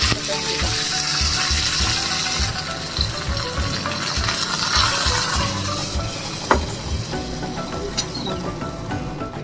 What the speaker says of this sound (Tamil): கடைசியாக சோம்பு கருவேப்பிலையை போட்டு தாளிச்சிட்டு